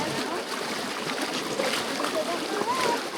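Raft paddled through river rapids on the Nantahala River, steady loud rushing whitewater with splashes and paddle strokes, close up, with people talking over it.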